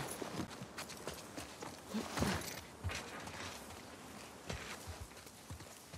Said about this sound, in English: Should probably get off the horse.